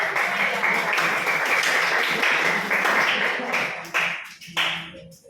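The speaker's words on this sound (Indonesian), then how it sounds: "beri aplaus untuk ya" A classroom audience applauding a student group after their presentation, with dense, close clapping filling the room before it trails off into a few scattered claps, with a voice heard briefly.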